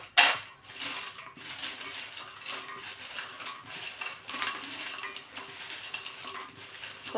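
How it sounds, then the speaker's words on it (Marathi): Crisp fried sweet potato chips are tossed with red chili powder and salt in a bowl, giving a dry, rustling clatter of brittle chips against the dish with a sharp knock at the start, steady and close. "हे छान असे मिक्स करून घ्यायचे"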